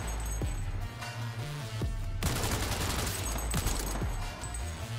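Gunfire in Cyberpunk 2077 Phantom Liberty, a mix of single heavy shots and dense rapid volleys, loud and close, with the game's music and ambience beneath.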